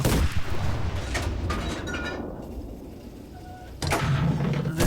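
Machine gun fire in the Enlisted video game, a dense roar of bursts and booming shots near and loud, easing into a quieter stretch before another heavy burst at the end.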